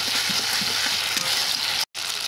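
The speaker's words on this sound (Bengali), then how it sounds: "মশলা ভালো করে কষিয়ে নিচ্ছি।" Ground spice pastes of ginger, cumin, chilli and black pepper frying in a kadai give a steady, close, bright sizzling hiss with soft stirring, cut by a brief gap near the end.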